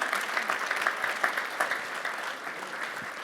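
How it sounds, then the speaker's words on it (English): A crowd at a business conference stage panel claps steadily, a dense, moderately loud round of applause with a few sharper individual claps standing out, holding for the whole stretch. "give these guys a round of applause."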